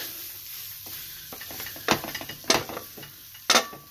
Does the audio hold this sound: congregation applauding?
no